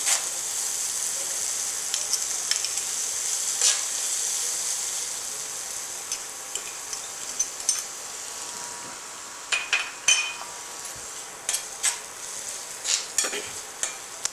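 Tomatoes sizzle in an oiled frying pan as a spoon stirs them, a steady frying hiss with scattered scraping clicks and taps of utensil against pan growing more frequent toward the end.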